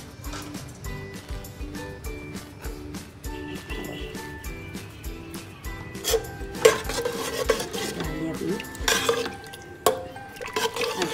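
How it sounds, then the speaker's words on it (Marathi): A spoon stirring garam masala and coriander into Agri-style dal mundi, repeated scraping and clinking against the pot in an uneven rhythm, close and fairly clear, with a soft sizzle underneath. "आता आपण याच्यामध्ये 1 चमच गरम मसाला टाकणार आहोत आणि कोथिंबीर टाकणार आहोत।"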